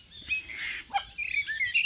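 Small birds chirping and tweeting close by in a quick, irregular series of bright calls, some overlapping, fairly loud and with no talking.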